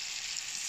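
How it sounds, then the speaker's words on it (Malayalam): Thinly sliced onions, two medium ones, dropped into the same pan used to fry chicken for a biryani, giving a steady close hiss of sizzling oil with no voices. "ഈ ചട്ടിയിലോട്ട് തന്നെ കോഴിയെ വറുത്തെടുത്ത ചട്ടിയിലോട്ട് തന്നെ സവാള ഇട്ട് കൊടുക്കാം."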